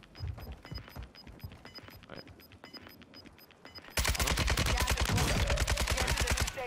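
Automatic gunfire in Warzone 2 (Modern Warfare 2), rapid rhythmic bursts of shots, fairly distant at first, then a loud close sustained burst that dominates the last few seconds.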